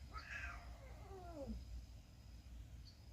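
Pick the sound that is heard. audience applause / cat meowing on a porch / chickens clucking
cat meowing on a porch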